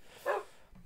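A single short dog bark from the Minecraft video game, clear and fairly faint, standing alone in game audio.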